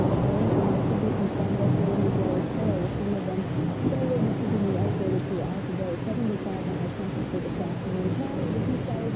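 Steady rain falls outside, a continuous hiss and patter under the louder chatter of a 1990s television playing next door, with a news-style voice speaking throughout.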